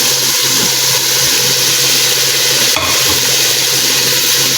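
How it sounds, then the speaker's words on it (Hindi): Tomatoes stirred into a pan of frying ginger and garlic for chana dal biryani, a loud, steady sizzle with scraping spoon strokes throughout and one brief sharp clatter midway. "टमाटर को भी ऐड करके अच्छी तरह से इसको चला लेना है"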